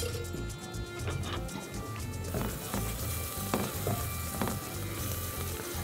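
Onions fry in a pan for lentil soup, a continuous quiet sizzle with occasional clicks and stirring clatter, and faint background sounds underneath.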